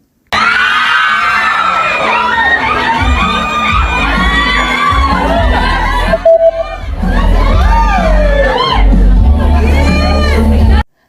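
A dense crowd of fans screams, cheers and whoops for Kim Chiu and Paolo, loud and sustained with shrill voices and overlapping babble, dipping briefly before surging again.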